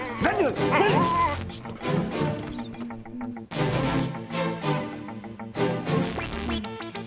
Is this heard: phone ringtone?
no